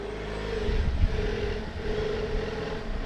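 A 2021 Jeep Wrangler 4xE plug-in hybrid moving on electric power, heard from outside: soft tire and road rumble under a faint steady electric whine, fairly quiet and continuous.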